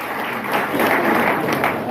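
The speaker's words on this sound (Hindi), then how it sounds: "सभी गुरुदेवों के लिए एक जोरदार ताली चाहता हूँ" Audience applause for the gurus at a winners' success celebration, a dense, steady wash of clapping from a crowd that swells slightly in the middle and holds for the full two seconds.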